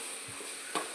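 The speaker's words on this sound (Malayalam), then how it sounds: "നല്ല ഇതൊന്ന് വഴറ്റിയെടുക്കുമ്പോൾ നല്ല മണം വരുന്നുണ്ടല്ലോ." Onions for a theeyal curry sautéing in a pan make a constant gentle sizzle, with a brief scrape of stirring near the end.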